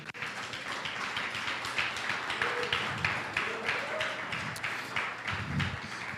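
Church congregation applauding during a Portuguese sermon, a steady wash of dense clapping filling the whole stretch at moderate level, with faint voices beneath.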